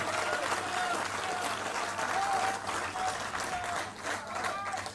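Audience applause at a Bharatiya Janata Party political rally welcoming Scindia, a steady dense clapping across the whole span with faint crowd murmur and a voice partly heard over it.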